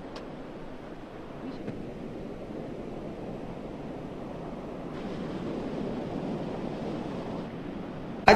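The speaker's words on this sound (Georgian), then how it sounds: "ქრის დასავლეთის მიმართულების ქარი, რაც იწვევს ზღვის ტალღების გაძლიერებას" Heavy sea surf driven by a strong westerly wind on the Adjara coast, heard as a steady roar of wind and waves that builds slightly partway through.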